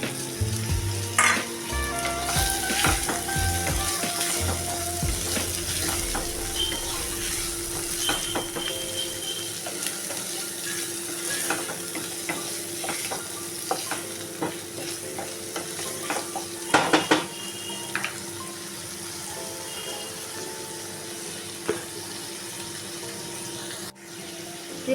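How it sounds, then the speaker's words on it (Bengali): Prawns added to softened tomato sizzle and fry steadily in a pan, with spoon stirring and clinks over the crackle for the whole stretch; no talking. "এবার আমি দিয়ে দিচ্ছি খানিকটা চিংড়ি মাছ।"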